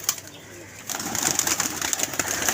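Pigeons at the Nasir pigeon club loft coo softly at close range amid a busy background of fluttering and scattered bird sounds, with no voices.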